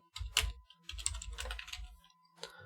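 Quick bursts of typing on a computer keyboard, close and fairly quiet, with clusters of key clacks separated by short pauses and a final brief flurry at the end.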